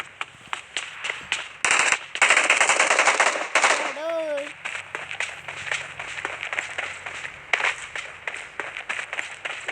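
Gunfire in the mobile battle royale game BGMI: rapid bursts of automatic shots crackle in quick succession, with dense sustained firing in the middle and sharp scattered shots afterward. A voice cries out briefly partway through.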